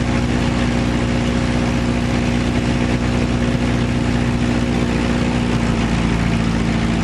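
A small airplane engine runs during a magneto check after landing on runway 17, producing a steady, loud, close droning hum throughout.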